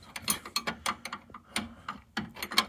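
A spanner works in a cold garage on a 1994 Jaguar XJS V12, giving off quick, irregular ratcheting clicks in short rhythmic runs, close and fairly quiet.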